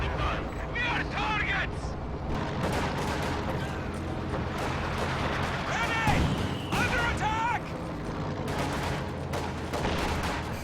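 A Stuka dive bomber strike on infantry in Company of Heroes 2 brings a dense rumble of explosions and gunfire under a constant battle din, with a voice talking over it.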